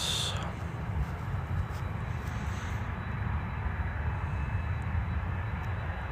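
A Ryanair Boeing 737 MAX jet airliner at Stansted Airport roars in a steady, broad engine rumble, loud and continuous with no voices.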